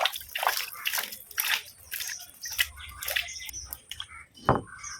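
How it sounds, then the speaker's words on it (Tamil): Water splashing and sloshing as a stone grinding mortar is washed twice before making peanut chutney, with repeated close splashes and pours in irregular bursts. "சூப்பராக 2 டைம் சுத்தமாக கழுவிக்கணும் கல்லை."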